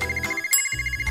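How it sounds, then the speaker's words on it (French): Telephone ringing in a family cooking challenge setting, a brief electronic ring pattern of short repeated pulses, moderately loud, with faint background noise and no talking. "Est-ce que c'est un téléphone?"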